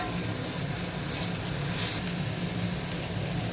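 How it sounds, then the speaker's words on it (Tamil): Coriander leaves and onion fry in a pan for a banana-stem stir-fry, giving a steady, close hiss of sizzling that stays even from start to finish. "கொஞ்சமாக கொத்தமல்லி தழை போட்டு ஃப்ரை பண்ணணும்."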